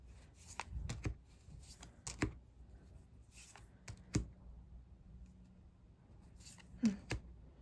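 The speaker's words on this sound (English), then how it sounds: "It shuffles, oh my goodness, incredibly beautifully." Soft riffling and crisp snaps of a deck of cards being shuffled repeatedly, close by and fairly quiet, with irregular sharp flicks throughout.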